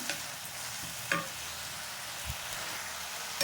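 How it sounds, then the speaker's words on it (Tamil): Dindigul country coriander pickle mixture sautéing in a pan, giving a steady, faint frying hiss with a few soft stirring taps, close by and continuous, no voices. "இப்போ நல்லா வதங்கிட்டு இருக்கு பாருங்கள்"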